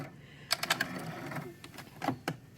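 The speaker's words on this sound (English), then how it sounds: "I'm going to go sew right up to my 1/4 inch mark" A sewing machine stitches quilt binding right up to the quarter-inch corner mark, giving a few quiet, close bursts of rapid stitching separated by short pauses.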